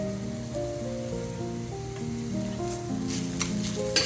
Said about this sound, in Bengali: তো এটাকে দিয়ে বেশ খানিকক্ষণ নেড়ে ছেড়ে নেব